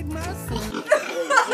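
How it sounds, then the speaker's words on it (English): Domesticated pigs in rural Cambodia give a few low grunts up close, mixed in with people talking nearby. "Are these pigs not domesticated?"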